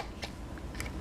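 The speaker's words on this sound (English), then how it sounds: "and then we can cut that off, just like that." Scissors cutting off small squares of folded, scored paper or card for a snowman soup holder: two quick crisp snips close by, short and fairly quiet, with no talking.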